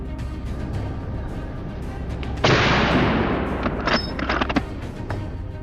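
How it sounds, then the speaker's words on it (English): A gunshot during a wild boar hunt in a forest rings out as a single sharp blast with a long rolling decay, followed by a fainter second report amid outdoor ambience. "A quick shot, and it was down."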